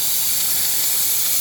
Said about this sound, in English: let's give the old paint a shake up. We'll get all the components laid out and let's start spraying